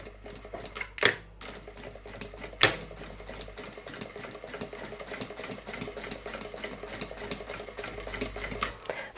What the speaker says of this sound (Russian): И по этой линии будем прокладывать строчку, оформляя уголок.